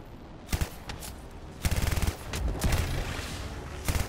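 Automatic weapon fire from the sci-fi shooter game Anthem, with short rapid bursts at irregular intervals, including a tight rattling string of shots near the middle, over a steady background rumble.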